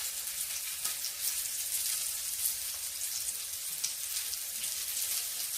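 Olive oil sizzles steadily in a frying pan under a pollock fillet, a dense close crackle with scattered pops and no talking.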